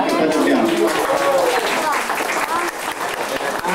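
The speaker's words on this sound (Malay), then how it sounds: "seharusnya lah kita sekali lagi berikan tepukan kepada beliau" A crowd at a community gathering gives loud, close applause for the event organiser. Talk and voices run over the sustained clapping, which eases slightly near the end.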